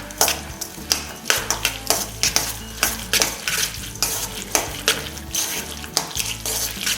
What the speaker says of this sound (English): And then we are gonna mix it all together.